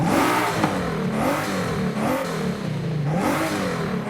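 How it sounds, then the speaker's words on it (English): A Ford twin-turbo V6 race engine of about 1,000 horsepower in a GT race car revs hard and loud up close, its pitch rising and falling in repeated sweeps. "Hear how powerful an American V6 sounds."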